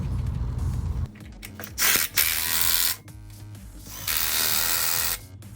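A ratchet clicks and whirs in bursts while an alternator is bolted back onto its bracket on an LS engine, close and mechanical with short pauses between runs.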